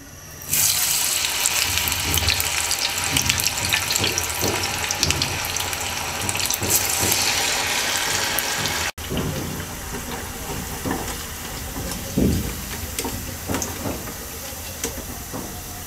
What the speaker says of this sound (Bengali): বাকিগুলো ভেজে নিচ্ছি